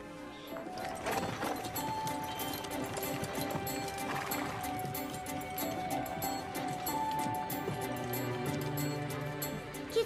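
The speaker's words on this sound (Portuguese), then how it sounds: "É um cavalo de trabalho da raça Clydesdale." Hooves of a large Clydesdale work horse clip-clopping in a steady walking rhythm, moderately close, with faint background sounds and no clear talk.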